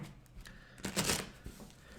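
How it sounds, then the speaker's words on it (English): A riffle shuffle of an assorted deck of prototype cards for an expandable card game, a short crisp burst of flapping card edges in the middle, with quieter handling rustles before and after. "you can literally just shuffle up any old random assortment of cards"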